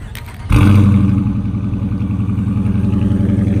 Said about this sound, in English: Let y'all hear this exhaust.